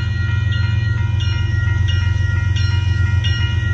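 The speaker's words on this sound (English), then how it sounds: "Well, here comes the tanker train" A northbound Union Pacific tanker train passes at a road crossing in Austin, Texas, a loud, steady rumble of rolling freight cars with faint rhythmic clicking from the wheels, close by and with no talk.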